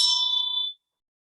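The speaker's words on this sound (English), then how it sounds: "Also, I have a bell here" A single strike on a Tibetan Buddhist ritual bell gives a bright, clear metallic ring that decays quickly and stops within a second, heard alone and close.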